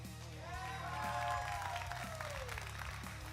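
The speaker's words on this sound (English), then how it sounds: "So big round of applause for Mike." Crowd applause at an esports event in a Las Vegas arena, clapping and cheering moderately loud under background music, with a rising-falling whistle or cheer heard midway.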